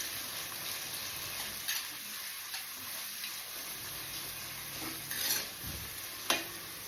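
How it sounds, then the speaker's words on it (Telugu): Two onions frying in a pan after mustard seeds have popped, a soft steady sizzle with occasional stirring clicks and scrapes, fairly quiet and without talk. "2 ఆనియన్స్ తీసుకొని బాగా ఫ్రై చేసుకోవాలి."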